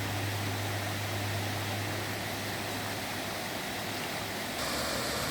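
The Pemigewasset River flowing in steady, continuous rushing wash, a dense even hiss of moving water with no pauses, heard alone without voices.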